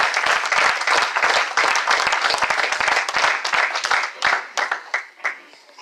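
A congregation at a church service claps for the Lord, a dense burst of many hands that thins into scattered, uneven claps as it tapers off.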